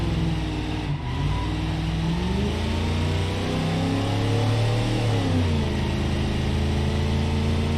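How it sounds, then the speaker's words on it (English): A loud car engine rumbles steadily, with revs climbing and falling as the car accelerates. The sound is close and continuous, with no voices. "it's just such a loud car for some reason."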